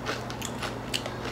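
Crisp, quick crunches from biting into a slightly greasy gluten-free potato chip made with avocado oil, a few close bites spread over a moment with no talking.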